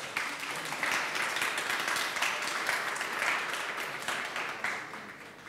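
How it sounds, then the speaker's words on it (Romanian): An audience at a national youth forum on elections applauds, with dense, steady clapping that swells and fades in gentle waves, heard from a little distance in a large room, with no talk. "Vă rog să aplaudați"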